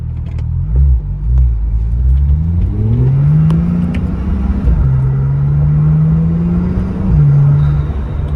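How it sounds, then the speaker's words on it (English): A 2015 Porsche 911 Turbo S engine drones loudly while driving with the roof open, its pitch climbing through gears with a few distinct shifts, rumbling close and continuous. "with that roof open up top, you really do hear all of the noises from the engine"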